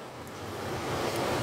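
Strong typhoon wind in Macau, a broad steady roar that slowly swells louder over a short stretch, with no voices.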